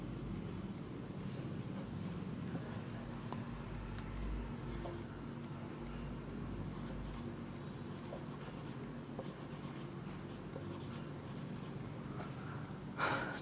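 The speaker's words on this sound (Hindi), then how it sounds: "मैं इसको ऐसे लिख दूं यहां पर" Marker or chalk scratching across a classroom board during a Hindi biology lesson on the circulatory system, a steady faint rubbing over a low room hum with no speech.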